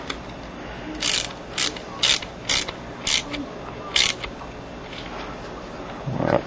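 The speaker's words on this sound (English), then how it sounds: "I'll take my wrench." A ratchet wrench tightens a bolt during an assembly, giving a series of close, loud ratcheting clicks in short bursts of about one per second, with a short rasp near the end.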